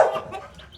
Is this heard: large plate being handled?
no